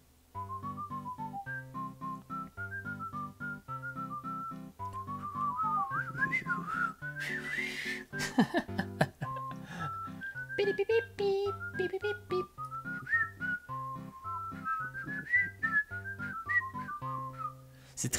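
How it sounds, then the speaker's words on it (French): A person whistles a melodic tune over video game music from Animal Crossing: New Horizons, the whistling weaving steadily and fairly loud through the background accompaniment across the whole stretch. "C'est très difficile de siffler quand on n'entend pas ce qu'on siffle en fait."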